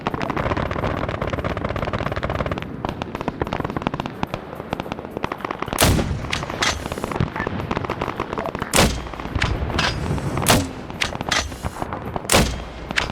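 Gunfire in the Arma 3 SOG Prairie Fire video game: a steady stream of rapid shots with several loud, sharp nearby cracks and booms breaking through, continuing throughout with no voices.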